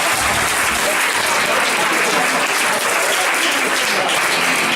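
Comedy club crowd in Lancaster applauding a comedian, a dense, loud wash of clapping with cheering mixed in, steady throughout.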